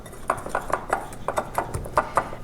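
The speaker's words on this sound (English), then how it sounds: "I'm going to whisk all this together" A whisk stirring dry biscuit ingredients with brown sugar in a bowl for pumpkin biscuits, producing quick, steady, evenly spaced scraping taps, close and fairly loud, with no voices.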